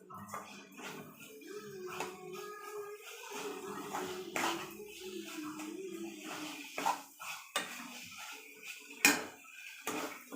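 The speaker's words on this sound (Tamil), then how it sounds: "வாழைக்காய் போட்டு சிம்லே வச்சு வதக்கி விடணும்" Fried raw banana pieces are tossed in a pan over a low flame, giving irregular clinks and scrapes of a utensil against the pan, some sharper knocks standing out, with a faint background hum.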